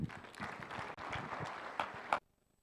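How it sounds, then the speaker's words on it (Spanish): Church seminary congregation applauds to welcome the youth theatre group, a fairly faint, dense spell of clapping with a brief gap, ending abruptly into near silence. "vamos a recibir con fuertes aplausos al grupo de jóvenes RBC"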